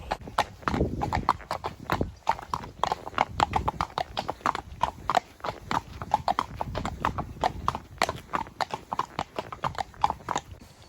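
Dressage horse walking and then trotting uphill, its hooves giving a steady, close, rhythmic clip-clop that continues throughout.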